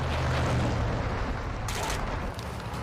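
Rapid gunfire and explosive booms in a Modern Warfare 2 (2022) shootout against cartel patrols, a dense continuous barrage of shots with a sharper burst partway through, loud and close.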